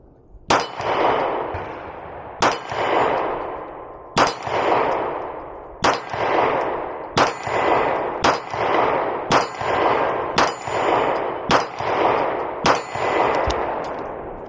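Repeated Beretta PX4 Storm Compact pistol shots ringing off steel targets on a range, about eight sharp reports spaced roughly a second and a half apart, each followed by a long metallic clang and ring.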